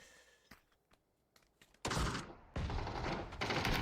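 Gunfire in a competitive battle-royale league match near the blue zone: scattered single shots at first, then a sudden loud, sustained burst of rapid fire.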